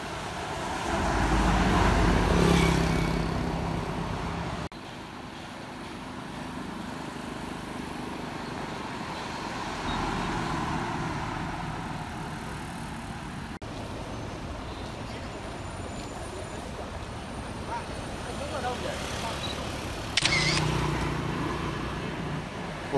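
Coach bus heard from nearby as it drives past, a broad low engine and road rumble swelling and fading, with a sharp hiss near the end, continuous roadway noise throughout.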